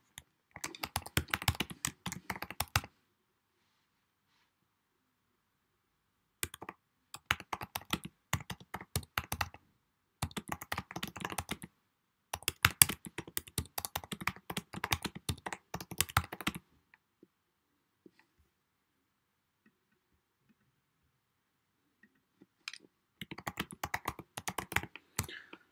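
Fingers type on a computer keyboard in rapid clattering bursts, several runs of close, crisp keystrokes separated by silent pauses.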